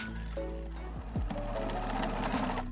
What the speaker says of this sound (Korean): 이것도 재봉틀 한후 시접을 잘라주세요.